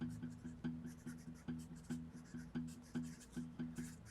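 Pencil writing in a notebook, a steady run of light scratching strokes that come in a regular rhythm, close and faint, with a low voice talking softly underneath.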